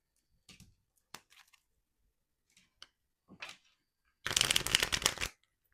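Tarot cards are handled with a few soft taps and slides, then shuffled in a quick, crisp riffle, close and clear in a quiet room.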